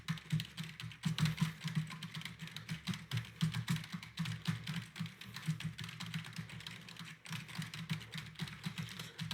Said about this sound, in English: as I'm typing on this and not speaking.